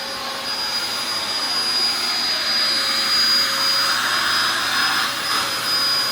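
A vacuum cleaner runs outdoors on a parking pad at night, its loud, steady motor roar and airflow hiss holding continuously at close range with no talking.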